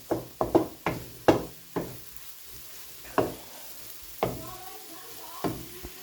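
Potato and vegetables sauté in oil in a pan, with sharp spoon knocks and scrapes in quick bursts, then spaced out, over a faint background sizzle.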